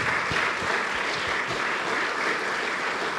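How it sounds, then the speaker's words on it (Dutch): Audience applause at a Dutch water-safety symposium on beavers, honouring the railway organisation ProRail: steady, dense clapping filling the hall evenly for a few seconds, with no voices over it. "Ik denk dat een applaus voor ProRail op zijn plek is voor de organisatie."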